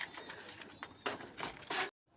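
Pigeons in a loft at night give soft, low coos and rustling calls, fairly close and quiet, with a few louder bursts before the sound abruptly stops.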